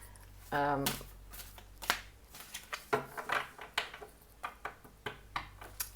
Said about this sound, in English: I've got inner child decks, and these are huge, so I'm going to shuffle them.